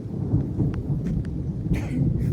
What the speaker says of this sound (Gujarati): વરસાદ પડેલો છે